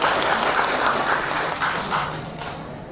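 Audience clapping continues at a Buddhist dharma talk, a dense, even wash of applause that fades slightly over a few seconds, with no voices over it.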